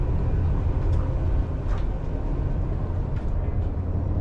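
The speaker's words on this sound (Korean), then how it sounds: "난생 처음 중국 기차 1등석에 타봤습니다" Steady low rumble and rolling rail noise inside a Chinese train's first-class carriage, a continuous loud drone with faint higher clicks and rattles, no talk.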